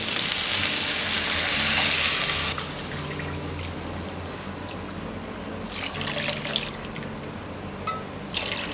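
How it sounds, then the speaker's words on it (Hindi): Water pours in a steady rush into a pan of millet for a couple of seconds, then splashes and trickles come in shorter bursts nearby. "इसमें 3 कप पानी डालेंगे।"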